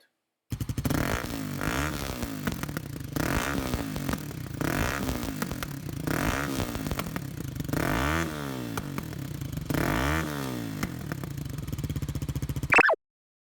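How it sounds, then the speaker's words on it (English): A 2005 Kawasaki D-tracker motorcycle with a secondary air cancellation plate idles and revs in repeated throttle blips, each rise trailing off into popping backfire crackles, close and fairly loud, ending in a sharp burst. "this bike make backfire, so let's see the fire and check the sound"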